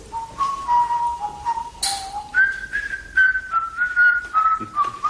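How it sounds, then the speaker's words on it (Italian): Festive whistling, a bright melodic tune with long sustained and sliding notes, carries clearly throughout in a comedic scene, with a brief hissy burst partway through and no talking. "Cosa sono questi fischi festosi?"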